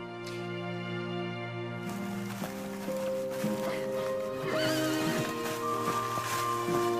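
Horses on a fjord-side farm neigh in long whinnies while hooves clop, heard over a steady musical backdrop with no talk.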